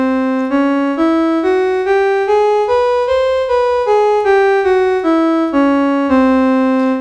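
A synthesizer plays the Indian raga scale Purvi one note at a time, stepping up and then back down in an even rhythm, clear and alone.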